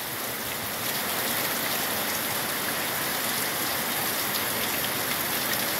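Heavy rain pours down steadily in Guerrero, a dense, even roar that never lets up, with no voices.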